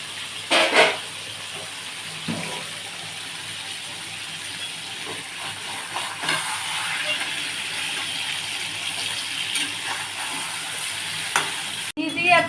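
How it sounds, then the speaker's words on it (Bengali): Chicken pieces fry in oil and ghee as a spatula stirs them, a steady close sizzle broken by scraping and clattering stirs, with a few louder knocks at the start and end. "আর তেল দিয়ে মাংসটা আমি ভাজা বসিয়েছি, এটা একটু ভাজা হবে"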